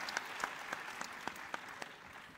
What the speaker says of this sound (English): yes, give him a hand,